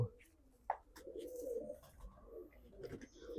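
Racing pigeons from a Punjab fancier's loft give soft, low coos, faint and close, with a sharp tap and murmured background voices around them.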